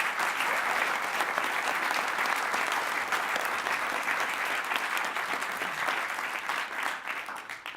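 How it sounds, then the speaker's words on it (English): Sustained audience applause for a group of entrepreneurs at a startup demo day, dense and steady throughout, thinning slightly toward the end. "Let's give them another round of applause."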